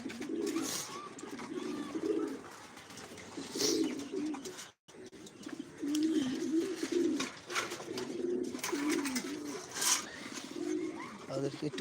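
Giribaz pigeons coo near their cage in a run of repeated, rolling low calls, with a brief pause midway before the cooing resumes at moderate loudness.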